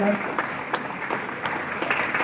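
At a ceremony at NSTI Ludhiana honouring the chief guest, the audience claps in a loose, fairly rhythmic pattern of separate claps over a murmur of background voices.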